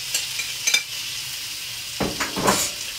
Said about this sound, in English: So we'll just put our garlic in. Can you hear that? Nice and hot.